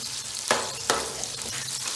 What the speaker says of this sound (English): Onion and fry up. Frying some one, yeah.